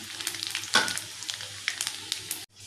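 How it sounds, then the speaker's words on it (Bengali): Cumin seeds frying in hot oil in a kadai with turmeric, ginger and garlic, giving a steady close sizzle with small crackling pops and a brief louder burst, then cutting off. "আর এর মধ্যে একটু জিরে দিয়ে দিলাম।"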